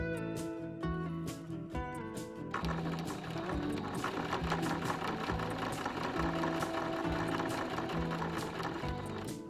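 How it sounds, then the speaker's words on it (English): A sewing machine top-stitches along the hem of a fabric hot pad for a casserole dish, a steady rapid mechanical whir running throughout under a tonal background, with no talking. "Top stitch along the hem and close the opening at the same time."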